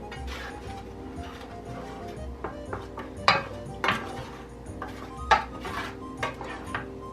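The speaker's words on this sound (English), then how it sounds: "You want to just give it a nice even stir through" A utensil clinks and scrapes against a bowl as a mixture with coffee creamer is stirred, giving irregular metallic taps over faint background music.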